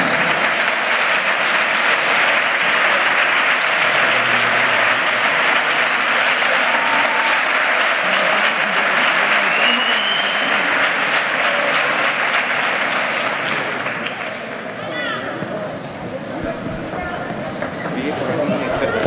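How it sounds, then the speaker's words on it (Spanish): An audience at the Ronda carnival proclamation of 2024 applauds loudly and continuously, a dense wash of clapping that fades slightly toward the end, with a voice speaking over it. "Pues me parece muy poco el aplauso para el pedazo de pregón de carnaval que acabamos de vivir"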